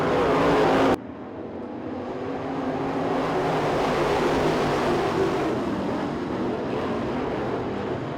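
Race cars at East Bay Raceway Park run down the back straightaway during a heat race, a loud rush of engines that drops abruptly after a second, then a sustained distant roar of the pack building and holding.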